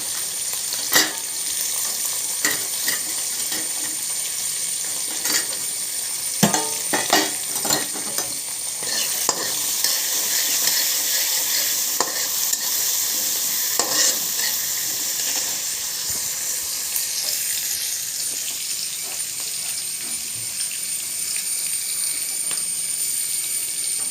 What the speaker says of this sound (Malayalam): കടുക് പൊട്ടിയ ശേഷം പച്ചമുളക്, ഇഞ്ചി, സവോള ചെറുതായി നുറുക്കിയത്